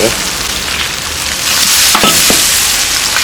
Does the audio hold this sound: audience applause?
no